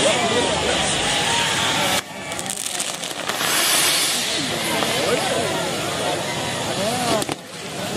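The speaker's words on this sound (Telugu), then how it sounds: "ఇవి పాంబాంబులు అంట, 2 పాములు కొట్టుకుంటున్నాయి" Snake bomb firecrackers at a Sankranti celebration in Andhra hiss and fizz loudly and without a break, broken by a few sharp crackles, with voices faintly underneath.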